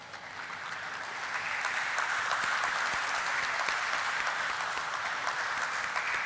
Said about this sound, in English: Let the claps be on.